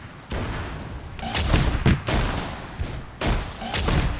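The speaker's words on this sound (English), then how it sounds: "A lot of explosions going off and knocking down walls." Repeated heavy explosions and thuds from a military shooter video game, with walls being knocked down; loud booming blasts in bursts separated by brief lulls, with no talking.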